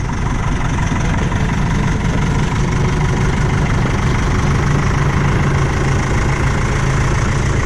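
An old Lincoln portable welder-generator engine runs at a logging site, a loud, continuous, steady idle with a deep rumbling, slightly knocking tone and no talk.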